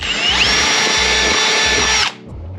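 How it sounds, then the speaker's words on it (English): A power drill boring a 5/16-inch hole during car interior lighting installation whines loudly and steadily for about two seconds, then cuts off abruptly, leaving quiet. "Start drilling that hole out."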